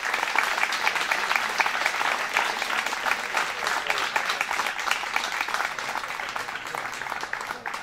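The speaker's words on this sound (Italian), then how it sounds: "Ancora un applauso." Sustained audience applause fills a hall after a floral tribute at a book presentation, dense steady clapping held at an even level for the whole stretch, with a faint voice or two underneath.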